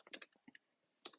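A short burst of crisp keyboard typing, a few quick keystrokes, then a pause and one more cluster of clicks, close and clear with no talking.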